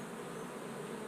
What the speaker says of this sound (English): you're killing bees.